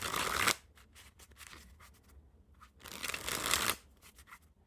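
Theory11 Blue Tycoon playing cards dribble from hand to hand in two quick fluttering bursts, close and crisp, separated by a few soft light taps, with no voices.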